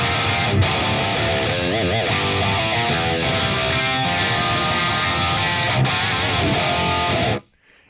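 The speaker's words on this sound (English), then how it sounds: "I'll put the grind pedal on at noon." Electric guitar played through the Fortin Nameless amp suite with a grind pedal engaged, loud and heavily distorted, with chugging palm-muted riffs and sustained chords that ring without pause before cutting off abruptly at the end.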